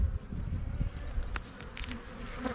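Dense buzzing of a honeybee colony in a hive that survived a freeze, a steady close hum filling the whole stretch with a few sharper individual wingbeats rising over it.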